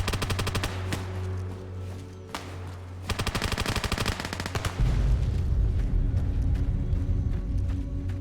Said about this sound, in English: I think that was his own grenade.